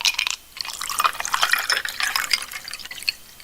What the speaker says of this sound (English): I'll pour you another glass of sweet tea